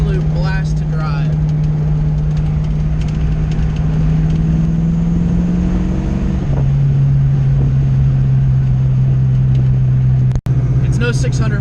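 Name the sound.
car engine while driving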